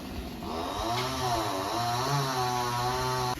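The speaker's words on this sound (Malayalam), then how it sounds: "അവിടെ മരം വെട്ടുന്നുണ്ട്." A tree being cut down near a home with a chainsaw, its engine droning steadily and continuously nearby with a rising and falling pitch, moderately loud and without talk.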